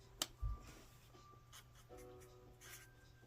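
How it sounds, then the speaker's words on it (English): Pen writing on paper in a quiet room: a sharp tap and soft thump near the start, then faint, scattered scratching strokes. "I'll write it on there"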